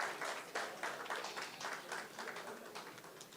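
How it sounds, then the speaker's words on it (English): Audience applause for summit panelists taking their seats at the Nigerian International Film & TV Summit, a steady wash of clapping from a seated crowd with soft rhythmic pulses, moderately loud and continuous without voices. "Can we please clap for them as they take seated?"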